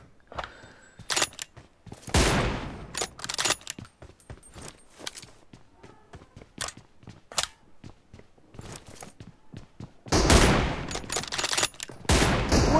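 M24 sniper rifle shots in a one-on-one video game match, sharp, loud cracks going off one at a time with gaps between them, plus reload clicks and a dense burst near the end.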